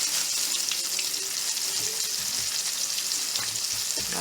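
Large pork chops fry in a pan, a loud, dense, continuous sizzle and crackle close up, with no talking.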